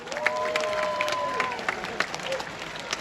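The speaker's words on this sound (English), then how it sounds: "A huge round of applause to the ESF organising team for staging the festival" A festival crowd claps and cheers for the organising team, sustained applause with a few whistles and scattered voices mixed in across a large indoor venue.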